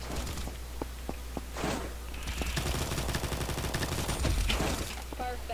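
Rapid gunfire from dual MAC-10 submachine guns in the video game Combat Master, long sputtering bursts that run almost continuously, with footsteps and a brief voice mixed in.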